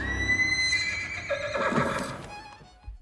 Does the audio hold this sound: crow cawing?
no